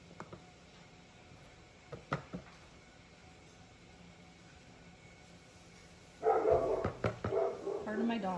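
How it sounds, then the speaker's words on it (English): Several dogs bark indoors in a home workshop where a reborn doll is being cleaned and stripped, a few faint sharp barks early on, then a louder burst of repeated barking near the end over low background noise. "Pardon my dogs. I have an amazing amount of annoying dogs."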